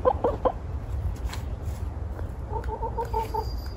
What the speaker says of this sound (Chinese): 大家不要以为它是公鸡啊， 它是只母鸡。